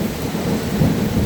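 Deep, steady rumble of thunder rolling through a lightning storm, with a low wash of rain beneath it, loud and continuous with no break across the short stretch.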